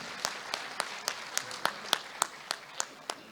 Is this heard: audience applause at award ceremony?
yes